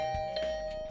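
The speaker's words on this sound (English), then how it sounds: "I didn't like the sound of that flurry of doorbell rings." Doorbell in the video game The Hundred Line chiming in a quick flurry, a bright ding over a steady background music drone, loud and close.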